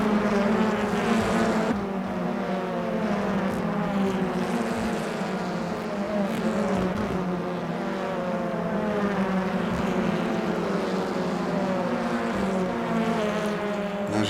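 BTCC touring cars racing in the rFactor 2 simulator, a continuous loud, droning engine note from a close pack of cars, rising and falling slightly through gear changes with no break.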